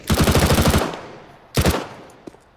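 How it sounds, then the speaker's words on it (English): Automatic gunfire in Counter-Strike: Global Offensive on the Dust 2 map, a rapid burst of about eight shots followed by a shorter second burst and a faint single pop, loud and close. "One guy is shooting at me."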